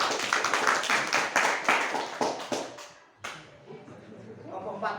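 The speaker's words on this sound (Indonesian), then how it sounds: "Tepuk tangan buat kelompok 3" A classroom group claps for group 3, the applause dense and broadband for about three seconds before fading into room murmur and voices.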